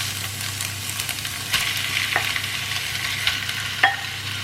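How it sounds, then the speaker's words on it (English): Bacon and eggs frying in a pan, a steady close sizzle with faint crackles and a few soft utensil taps and scrapes, no voices. "I like to flip the bacon halfway so that it goes crispy on both sides"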